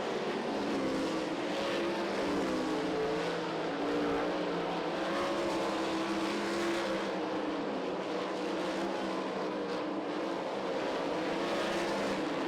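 Sprint cars race around a dirt oval at 34 Raceway, a loud, continuous roar of several engines whining and droning together from mid-distance, with no voices heard.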